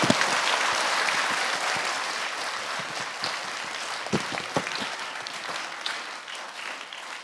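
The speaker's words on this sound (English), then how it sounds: "Let's give them a big round of applause." Students and staff at a school assembly give teachers a big round of applause, a dense wash of clapping with sharp individual claps that slowly thins out over several seconds.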